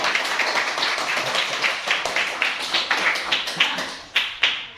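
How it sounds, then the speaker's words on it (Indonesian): Students in a fifth-grade classroom clap together for their scores, a brisk run of close, sharp handclaps from a small group that thins into a few louder separate claps near the end. "sekali lagi tepuk tangan untuk kalian"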